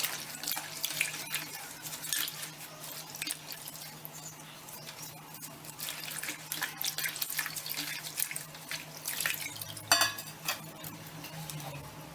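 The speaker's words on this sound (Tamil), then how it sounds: "ரெண்டு தடவை நல்லா அலசிட்டோம்." Hibiscus leaves are rinsed by hand under a running kitchen tap, a steady soft stream of water with light splashing and rubbing, quiet and close, no talking.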